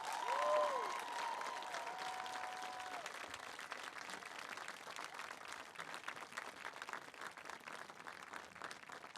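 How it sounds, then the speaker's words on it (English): Sustained round of applause from a school audience at a senior intent night, steady and dense for the full stretch, with a brief whistle-like tone near the start and no talking over it. "Let's give all of our seniors a round of applause."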